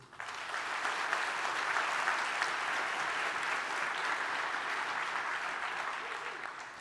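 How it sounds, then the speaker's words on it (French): Audience applause greeting presenters at a tech conference talk on mobile app hacking, a steady full-room clapping that swells quickly and holds evenly before easing slightly at the end. "Je vous demande d'accueillir et d'applaudir s'il vous plaît Amélie Avignon et Julien Gimenez"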